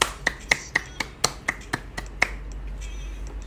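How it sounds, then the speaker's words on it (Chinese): A person claps their hands on request in a deliberately silly way: about nine sharp, close claps in a loose, uneven rhythm that slows and thins out toward the end, with no other sound. "表演个呆瓜拍手。"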